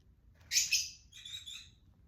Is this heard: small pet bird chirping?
yes